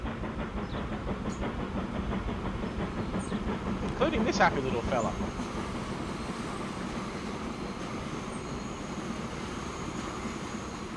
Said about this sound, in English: We're going to sit right here and watch trains come and go.